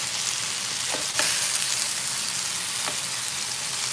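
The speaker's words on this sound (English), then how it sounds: "And here's the sear on the beef rib." Beef rib searing in a hot pan for birria tacos gives a steady, close sizzle and hiss, with a couple of brief sharper crackles partway through.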